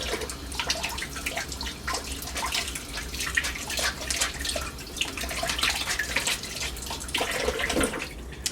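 Water running continuously from a tap as a makeup sponge is wetted, a steady close splashing wash with faint drips.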